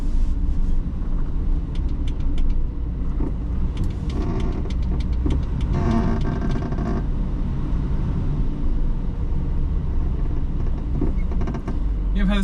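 A 1971 Mercedes-Benz 280SE 3.5 idles with a steady, loud low rumble that holds evenly throughout, with brief lighter clicks and rattles on top and no talking.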